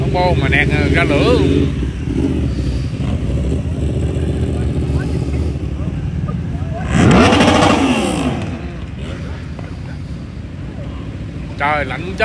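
Motorcycles rev at a street race, a steady engine drone punctuated by one loud, rising exhaust burst midway, with voices chattering nearby throughout.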